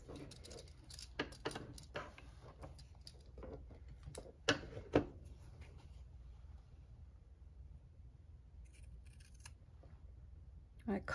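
Small scissors snip fabric for a half-scale miniature modern bed, a run of quick close crisp snips with a couple of sharper louder cuts midway, then quieter rustling and a few light snips.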